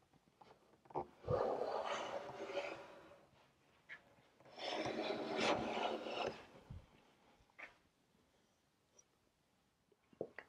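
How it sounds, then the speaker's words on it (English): Hand plane making passes along a clamped wooden chair leg, two long loud shaving strokes with rasping swish, separated by pauses and lighter taps and scrapes, close up with no talking. "So I'm going to make a couple passes here with my plane."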